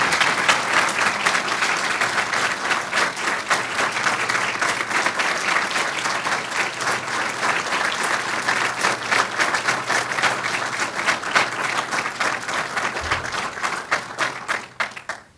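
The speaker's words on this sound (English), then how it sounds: "Let's give him a big applause." Sustained applause from a large audience at a university medical building groundbreaking ceremony, dense and steady clapping that carries on for a long stretch before tapering off at the end.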